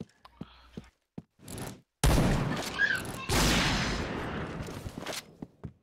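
Bursts of rapid gunfire in the video game Point Blank, loud and close, with dense volleys of shots crowding together and a few short voiced sounds at the start.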